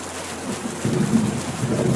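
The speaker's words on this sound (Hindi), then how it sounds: "ऊपर से बहुत तेज बारिश भी हो रही है" Heavy rain falls steadily as a dense, low hiss that swells partway through, with no voices.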